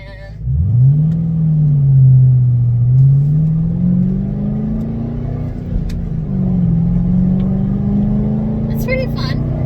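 A Ford Mustang GT intended as a NASA Spec Iron race car revs and pulls through gears on a test drive, its engine note rising and falling in a loud, sustained drone from inside the cabin.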